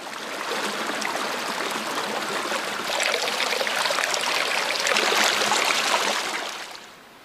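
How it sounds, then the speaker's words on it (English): A forest brook runs through the middle of a wooded ravine, a steady broadband rush of flowing water that swells slightly midway and fades at the end, close and continuous with no voices. "you can look down at the brook, which flows through the middle of the ravine"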